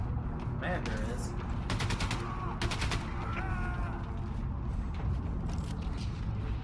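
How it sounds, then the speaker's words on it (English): Gunfire in the video game Wolfenstein 2: The New Colossus, with bursts of rapid automatic shots and scattered single reports over a steady game background, playing throughout at moderate loudness. "I still hear gunshots"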